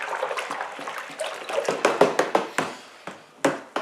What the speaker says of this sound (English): I need to give this really good, thorough stirring. Really thorough.